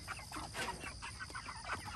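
A flock of chickens cluck and murmur close by in a farm setting, with repeated short overlapping clucks spread steadily over a quiet background hum and no talking.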